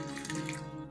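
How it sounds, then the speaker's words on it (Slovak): Water pours steadily into a folded beeswax wrap pouch, a brief close trickle and splash that runs without break and no voice over it. "nalejem vodu."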